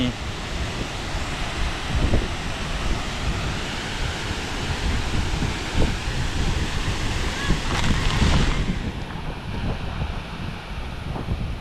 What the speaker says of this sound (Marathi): पडतोय धबधब्याचं पाणी